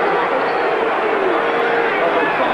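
A packed stadium crowd of some 76,000 at Arrowhead boos during a 1990 NFL game, Seahawks at Chiefs, a broad sustained roar that fills the whole stretch, with a commentator talking over it.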